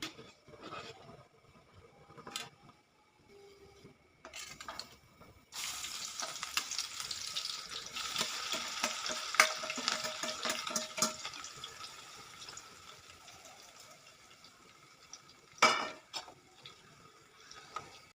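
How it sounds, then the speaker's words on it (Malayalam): Garlic and green chillies frying in oil for an Onam ginger pickle, a soft sizzle rising after a few quiet clinks and settling into a steady crackle, with a brief sharp clatter near the end. "വെളുത്തുള്ളിയും പച്ചമുളകും നമ്മളിവിടെ വറുത്തെടുത്തിട്ടുണ്ട്"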